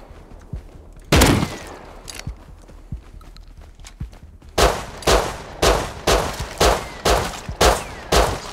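Gunfire in the survival game Rust: a few scattered single shots early, then a regular run of about eight loud, evenly spaced shots in the second half, with no talk over them.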